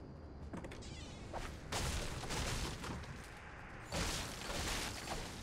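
Gunfire in a Fortnite match comes as several sharp cracks with bursts at intervals, fairly close and loud, over a busy background with no voices.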